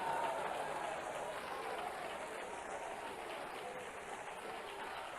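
Steady, dense clapping from a church congregation, a continuous rain-like patter of many hands that holds at an even level throughout.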